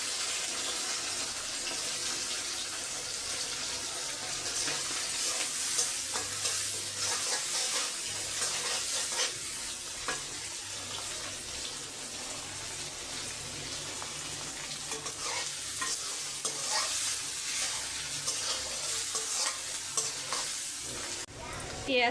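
Dried fish and onion fry together in a pan, a continuous close sizzle with frequent scraping stirs and faint watery clatter, no talk.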